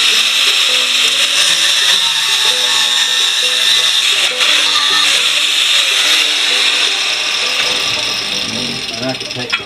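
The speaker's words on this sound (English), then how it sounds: "I got my other little grinder wheel over here." A small grinder wheel whirs at a high pitch against the edges of a metal toggle switch holder in a garage, steady and loud, easing off near the end while someone talks.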